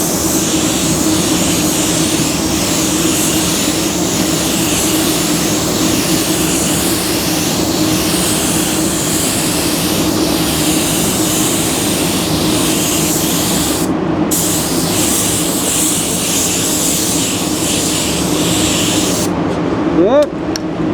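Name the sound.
spray gun spraying pearl paint coat on car panel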